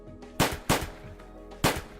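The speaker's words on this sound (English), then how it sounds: "I heard gunshots." Three sharp gunshots ring out in a visual novel game, Angels with Scaly Wings: two close together, then a short pause before a third, each loud and punchy with a brief decaying tail.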